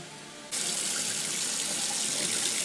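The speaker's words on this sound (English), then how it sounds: "Now it's important to do this under running water." Tap water gushes into a sink with a sudden onset after a half-second of quiet, then runs steady and loud as boiled pasta is strained beneath it.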